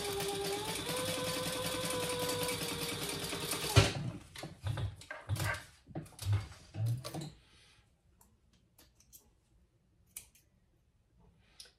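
A sewing machine stitches a card slot template onto a mini wallet, a steady motor whir with fast needle ticking for about four seconds, followed by scattered handling clicks and bumps that fade to near silence.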